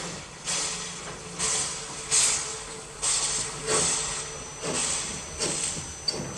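Terrier steam locomotives working at Eastleigh give repeated sharp exhaust chuffs and hissing bursts, about one each second, over a low rumbling background.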